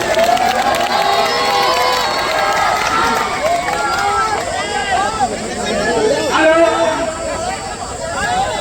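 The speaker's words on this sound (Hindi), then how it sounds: "एक बार ताली बजा के हौसला देते हैं।" Spectators at an outdoor kushti wrestling bout cheer and clap in a loud, busy crowd roar, with shouting voices and chatter mixed through the noise.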